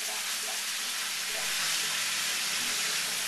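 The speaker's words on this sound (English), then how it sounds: "And just go ahead and cook that your ground beef." Ground beef fries in a pan for picadillo, a dense, continuous sizzle heard up close without talk.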